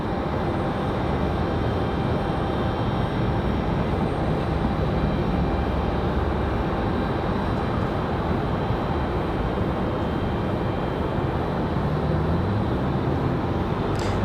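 A Breeze Airways Embraer E190 jet takes off from Raleigh-Durham International, a loud, continuous, rushing engine roar that holds steady for the whole stretch, with no voices.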